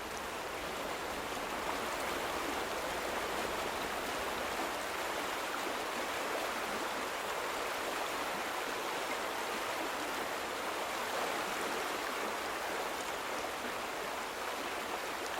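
A river flows steadily through the world of The Vanishing of Ethan Carter, a dense, even rush of water that stays loud and unbroken throughout, with no voices.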